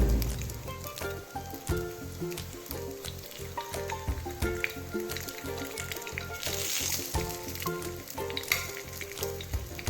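Kuzhi paniyaram fries in oil in a paniyaram pan, giving a continuous crackling sizzle with quick clicks and taps as the pieces are flipped.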